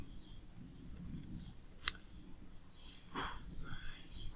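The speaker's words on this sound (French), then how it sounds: "je clique à droite" A single sharp computer mouse right-click on a file explorer window, crisp and close, standing alone against a faint background hiss.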